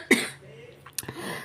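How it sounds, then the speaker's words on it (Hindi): A woman coughs sharply once, close and loud, then a smaller cough follows in a quiet kitchen. "सॉरी, बहुत खांसी हो रही है।"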